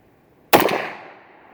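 A Norinco Tokarev TT33 pistol fires a single 7.62x25 round, one sharp loud crack with a short reverberant tail fading over about a second.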